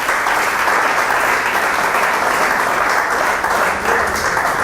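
A church congregation at a convention in Medellín, Colombia, breaks into strong, dense applause, loud and continuous clapping filling the hall without letup.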